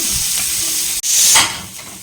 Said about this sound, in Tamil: ஆனியன் நல்லா ரோஸ்ட் ஆகட்டும், பார்த்துக்கலாம்.